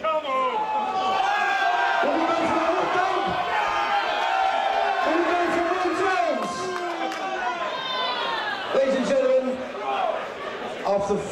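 Crowd at an English Beatbox Association battle cheers, whoops and chatters loudly and steadily throughout, a dense roar of many voices with shouts rising above it.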